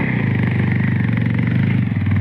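A motorcycle engine runs steadily and loud at close range on a mountain trail toward Ama Yangri peak, a throbbing mid-pitched drone with slight clatter and no voices.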